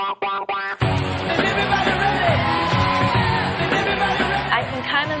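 An audience at a fashion show runway finale yells and screams, a loud, dense roar of whoops and shouts under pounding music, following a few brief shouts at the start.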